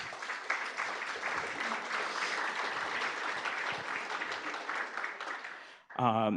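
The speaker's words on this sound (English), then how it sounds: "Can we give them a round of applause?" Audience applause at an introductory session of a civic data event, sustained dense clapping from a roomful of people that fades out near the end before a brief burst of voice.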